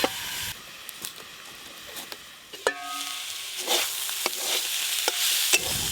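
Leafy greens (note shak) with salt and turmeric fry in a pan, a soft hissing sizzle punctuated by sharp scraping stirs and clinks of a spatula, fairly quiet with no voices.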